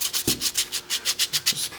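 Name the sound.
sanding a tricopter part flat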